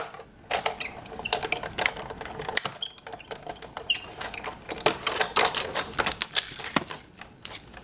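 Scissors cutting an oval out of paper for a card craft: a rapid series of crisp snips and rustles, close and fairly quiet, with brief pauses and no talking.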